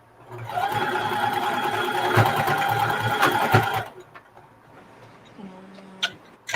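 A sewing machine top stitching a reversible bucket hat runs close and loud in one steady burst of rapid ticking stitches for about three seconds, then stops, leaving faint handling sounds and a brief hum.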